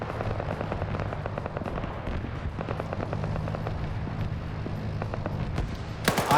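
Autocannon vehicles fire in the video game Arma, with rapid repeated bangs and rattling bursts across the whole stretch and a sharp loud burst right at the end.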